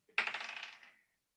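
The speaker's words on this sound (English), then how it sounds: "Roll for initiative." Dice rolled onto a table during a tabletop role-playing game make a single short clatter, close and fairly quiet, rattling for under a second before stopping, with no talk.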